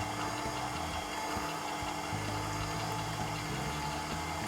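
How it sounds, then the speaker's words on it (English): A stand mixer hums steadily on low speed while hot maple syrup is poured slowly into softened gelatin for marshmallows, giving a continuous motor whir with no talking. "So with the stand mixer, I'm going to place it on low."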